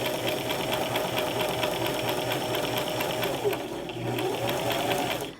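Sewing machine running a straight seam on fabric, a continuous rapid rhythmic stitching hum that holds steady, briefly dips, then resumes before stopping.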